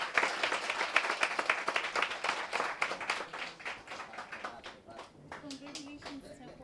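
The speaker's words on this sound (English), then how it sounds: "Let's give Tsepo a big round of applause" An audience at a digital marketing workshop claps for a ranked participant, with brisk individual claps that gradually thin out as a voice starts speaking near the end.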